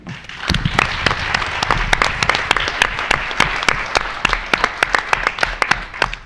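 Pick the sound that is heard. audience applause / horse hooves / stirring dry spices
audience applause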